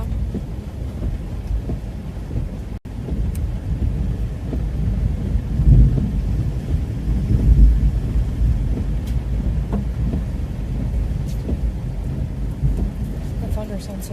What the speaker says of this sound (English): The thunder sounds so good.